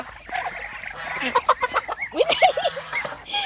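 Farm ducks and chickens at night around feeding time, a run of close quacks and clucks growing louder and busier, with a voice speaking among them.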